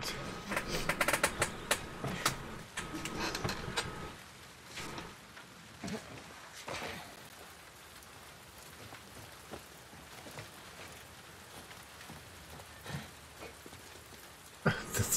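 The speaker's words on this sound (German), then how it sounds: "Es regnet." Rain patters steadily in The Last of Us Part II, a soft spattering hiss of drops on surfaces, fairly faint with a few brief louder bursts and a voice speaking briefly.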